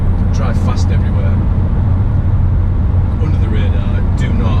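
Steady, heavy exhaust drone from a Jaguar F-Type R with an STG system cruising along, a constant loud low rumble close by, with someone speaking over it.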